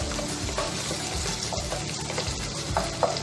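Goat innards papaitan being stirred and mixed in a cooking pan, with a continuous close sizzle and wet bubbling broken by scraping, clinking strokes of the spoon against the metal, no talking.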